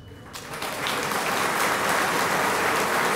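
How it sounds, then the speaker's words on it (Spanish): A crowd breaks into applause that builds quickly and holds as steady, dense clapping. "Siento que el aplauso aquí es más tímido."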